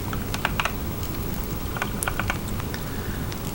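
Mechanical keyboard fitted with linear Gateron switches being typed on, with quick scattered clusters of keystrokes clacking over a steady background hiss.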